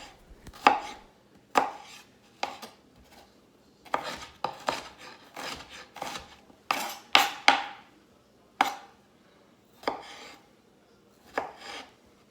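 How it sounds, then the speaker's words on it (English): A knife chops green onions, red onion and tomato on a cutting board in a dozen or so sharp, uneven strokes, some in quick bursts, close up with quiet gaps between. "chopping our green onions, our red onions, and our tomatoes"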